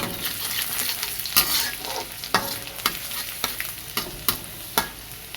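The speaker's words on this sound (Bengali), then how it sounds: "এরপর কেটে রাখা রসুনের কুচিগুলো দিয়ে দিচ্ছি হালকা নাড়াচাড়া করে নিয়ে" Dried chili and chopped garlic sizzle in hot oil while a utensil stirs through them, sharp scraping strokes recurring every half second or so over a steady close fry.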